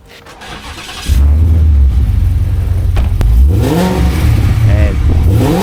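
Supercharged Ford Mustang RTR Spec 5 fires up after a second of quiet, settling into a loud steady idle, then blips through several rising and falling revs with a deep rumble, close by.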